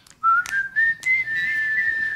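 A single clear whistled tune from the Clover Whistling Chef advert rises slightly and holds as a bright, close, sustained melody with short breaks between notes.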